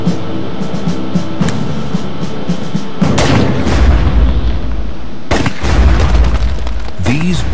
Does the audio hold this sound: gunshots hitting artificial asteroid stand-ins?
yes